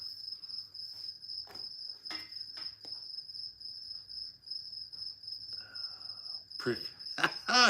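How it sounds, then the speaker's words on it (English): Steady, high-pitched cricket chirring in a garage runs continuously throughout, with a few scattered rustles and brief bursts of noise, the loudest near the end. "You had to spray for crickets in the garage."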